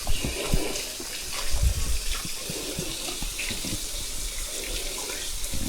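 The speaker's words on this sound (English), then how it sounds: "Just a little bit of water trickling down her today." Water trickles steadily at Rylander Cascades, a low-flow waterfall, making a continuous close hiss with no speech.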